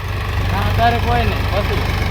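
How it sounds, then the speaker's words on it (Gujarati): Tractor engine idling steadily close by during a groundnut sowing job on a farm, a constant low throbbing rumble, with people talking over it throughout. "મારા પપ્પા ચલાવે છે ટ્રેક્ટર"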